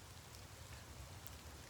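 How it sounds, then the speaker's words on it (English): Heavy, steady rain falls continuously, a dense wash of hiss with low rumbling patter throughout, no voices present. "damn, raining hard as hell again."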